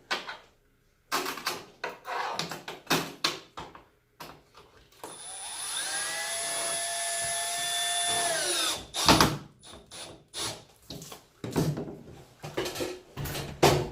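Electric drill driving screws to mount an over-the-range microwave, a steady whining run of several seconds in the middle with shorter bursts and handling clatter before and after, close and loud.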